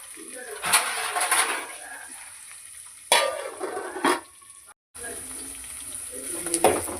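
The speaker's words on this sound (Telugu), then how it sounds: "పచ్చిమిర్చి, ఆనియన్ గోల్డెన్ బ్రౌన్ వచ్చే వరకు ఈ ఆనియన్ అయితే ఫ్రై చేసుకోవాలి." Onions and green chillies fry in a pan until golden brown for a broad bean curry, giving a soft sizzle with occasional stirring scrapes, interrupted by talk, plus a faint bird cooing in the background.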